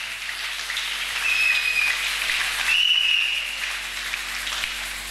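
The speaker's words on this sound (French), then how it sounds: "si on peut aussi applaudir pour tous les serviteurs" A church congregation claps during a worship service, a moderate steady patter of hands that swells twice, with a thin whistle-like tone riding over the clapping in the middle.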